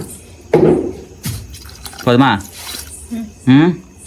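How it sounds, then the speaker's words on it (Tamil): Water is poured into a pot of pepper chicken curry cooking over an open fire, heard as a few separate splashing, gurgling pours in short bursts against a quiet outdoor background. "சிக்கனுக்கு தேவையான தண்ணியை ஊற்றுகிறோம்."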